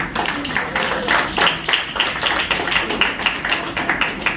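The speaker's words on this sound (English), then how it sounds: "so big round of applause for achievers." An audience at an Inner Wheel district club event in a hall gives a round of applause for achievers, with steady, dense clapping sustained at even loudness throughout.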